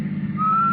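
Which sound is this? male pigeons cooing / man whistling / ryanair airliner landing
man whistling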